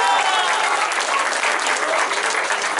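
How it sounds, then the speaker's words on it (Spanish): An outdoor crowd at a public works inauguration on a city avenue applauds strongly, a dense, sustained clatter of many hands heard close and loud throughout, with a few cheering voices mixed in. "Fuerte el aplauso para él."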